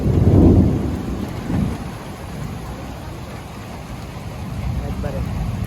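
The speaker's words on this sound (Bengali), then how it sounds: "কি পরিমাণে বৃষ্টি শুরু হইছে।" Heavy rain falls steadily in a rural paddy-threshing area as thunder rumbles loudly at the start and again shortly after, a dense hiss of rain continuing throughout.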